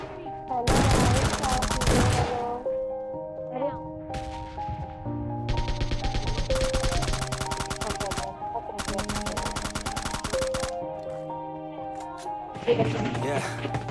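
PUBG Mobile Lite gunfire comes in several sharp, rapid bursts of shots, loud and punchy, layered over a background music track with clear melodic tones between the volleys.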